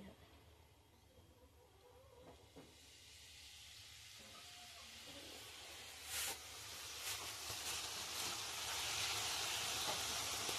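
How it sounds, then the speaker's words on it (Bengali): Besan batter sizzles in hot oil over low heat as gram-flour strands fry for a crispy snack, a continuous crackling hiss that grows denser and louder toward the end, with a few sharper pops along the way. "হালকা হালকা করে আঁচে ভাজছি আমি"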